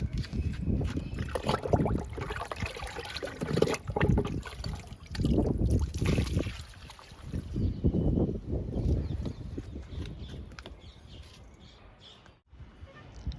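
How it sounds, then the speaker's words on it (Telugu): Liquid fertilizer poured onto a bottle gourd plant in a home garden, a rushing, gurgling pour in several surges against outdoor background with faint bird chirps. "సొరపాదుకు కూడా ఇచ్చేద్దాము లిక్విడ్ని."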